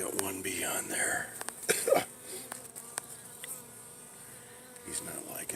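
Honey bees buzz faintly and steadily around an open hive during an inspection, with close thin droning, a few sharp clicks and handling noises, and soft human sounds.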